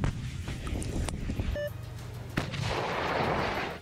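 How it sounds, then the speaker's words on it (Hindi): A Russian tank cannon fires shells in war footage, a heavy boom with a brief ringing tone followed by a deep rumbling roar and a later thud, loud and close over a steady engine drone. "टैंक चलाने वाले सैनिक ने गोला लोड कर जैसे ही उसे फायर किया, लोहे का भारी भरकम टैंक तक थर्रा उठा।"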